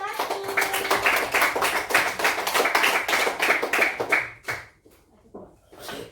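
Classroom of students clapping for a group, a quick rhythmic burst of many hands beating in near unison, loud and close, then thinning out into a few scattered claps as it fades.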